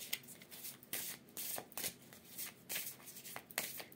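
Tarot cards are shuffled by hand in a quick series of papery riffles and soft slaps, close and fairly quiet, with no talking.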